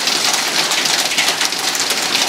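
Dime-sized or larger hail drums steadily on rooftop solar panels during a fast-moving severe storm, a dense, continuous hiss of many impacts with no voices.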